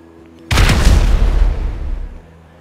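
An explosion goes off in Grand Theft Auto 5 during a raid on a federal building, a sudden loud boom followed by a roaring, crackling rumble that fades over about two seconds, with no talk.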